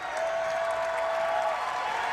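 A basketball crowd applauds a win with dense, sustained clapping that stays steady and fairly loud throughout, plus a faint whistle-like tone.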